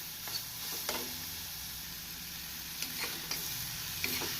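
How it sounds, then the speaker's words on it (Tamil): Steady sizzling of onions and egg frying in a pan, with a few soft scraping stirs of a utensil now and then. "நாம் வெங்காயத்தை நன்றாக வதக்க வேண்டும்"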